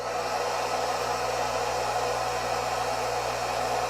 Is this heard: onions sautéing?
no